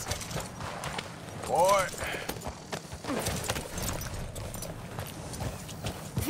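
Horse hooves clip-clop at a walking pace in Red Dead Redemption 2, moderately close under a voice, with a brief whinny-like call in the middle and faint ambient rustle.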